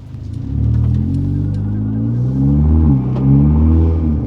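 An Audi TT engine fitted with a RamAir induction intake revs up close by, a loud, deep rumble climbing and dipping through several pulls around two thousand rpm, with no talking over it.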